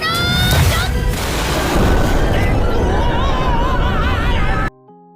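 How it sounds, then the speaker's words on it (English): A magical explosion spell from an anime, a loud, sustained blast roaring with broadband rumble for several seconds alongside rising whistling tones, then cutting off abruptly to a short quiet musical tail. "Then Megumin used a mighty explosion magic."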